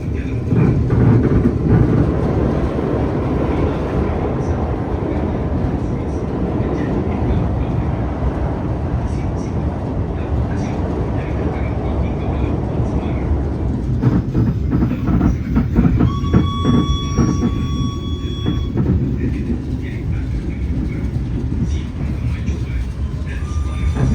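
A Gajayana passenger train rumbles steadily across the Lahor railway bridge with rhythmic clatter, a sustained close roar lasting throughout, with brief squeals rising midway.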